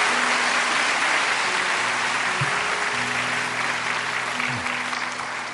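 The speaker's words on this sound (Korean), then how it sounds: "큰 격려의 박수 우리 해주시면서 함께 말씀을 듣게 되기를 원합니다." Sustained applause from a church congregation during a late-night Holy Week worship service, a steady broadband wash of many hands clapping for the full length with faint tonal hum beneath.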